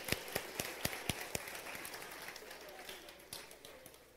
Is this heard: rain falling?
no